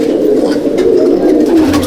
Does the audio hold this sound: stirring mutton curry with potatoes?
no